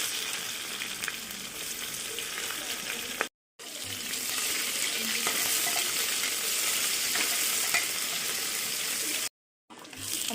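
Onion frying with garlic and cumin in a pan for khichdi gives a steady loud sizzle that breaks off in two brief silences.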